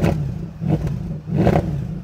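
A warmed-up Fiat Multipla engine is revved hard three times in quick succession, each blip rising sharply and then dropping back toward idle, loud and close.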